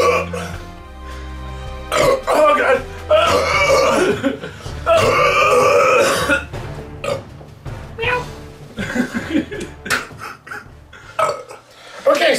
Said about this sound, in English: I couldn't hold back that burp anymore